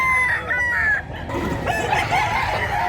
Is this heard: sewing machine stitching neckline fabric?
no